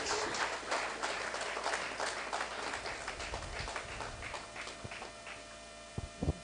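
Audience applause and clapping fill a book launch hall as a woman walks up to the stage, a dense steady patter of many hands with a low mains hum underneath, tapering off with a few last claps.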